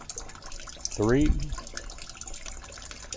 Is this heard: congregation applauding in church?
no